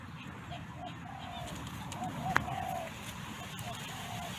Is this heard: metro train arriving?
no